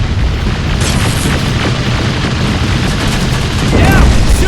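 A rocket explosion in the Terminator: Resistance video game erupts as a loud, heavy boom amid constant combat din, with a deeper blast swelling near the end while voices shout nearby.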